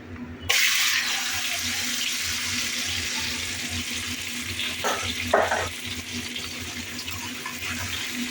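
Mutton frying in hot oil with cumin, bay leaf and dried chilli, a steady close sizzle that starts abruptly and continues throughout, broken by two brief louder spatters near the end.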